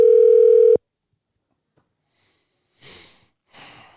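A telephone dial tone sounds loudly for under a second while a call is placed, then cuts to near silence followed by two short breathy sniffs or rustles.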